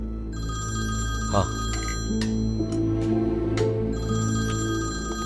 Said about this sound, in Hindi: आपके लिए फोन है।